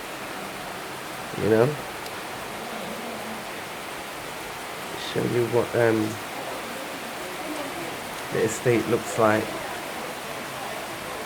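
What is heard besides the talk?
heavy rain at start of rainy season in Gambia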